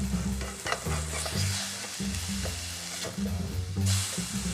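A smash burger patty sizzling and browning on a hot surface, a loud, close, steady crackling fry with bursts of sputtering grease and no talking.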